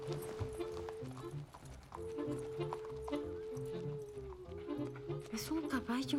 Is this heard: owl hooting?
no